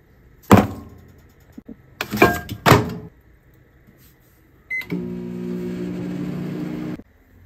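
A few loud thumps and clunks like a door being handled, then a steady electronic hum from a microwave oven running for about two seconds before stopping.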